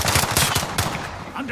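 Rapid automatic gunfire in Call of Duty: Modern Warfare multiplayer, loud close bursts crackling one after another with barely a pause, and a little player chatter faintly mixed in.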